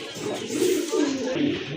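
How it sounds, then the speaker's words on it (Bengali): Pigeons coo close by, a pair of deshi golla pigeons kept for sale, giving a few soft rolling low coos in quick succession. "আরেক জোড়া কবুতর"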